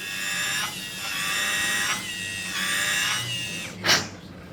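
Dental implant drill boring into bone with a Straumann BLX implant drill set, a whining high-pitched motor rising and pausing in three or four short bursts, close and moderately quiet, with no talking.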